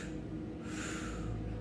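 During a Pilates exercise, a soft, airy exhale is heard as a faint, breathy rush of air over quiet room noise, lasting about a second.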